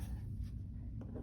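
A pen scratches briefly across paper while budget amounts are noted down, a soft, quiet scribble over a low room hum with one slightly sharper stroke near the end.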